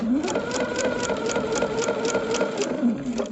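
A sewing machine stitches a star-spangled quilt, its needle rattling in a fast, even rhythm of about four strokes per second over a steady motor whir, close and alone.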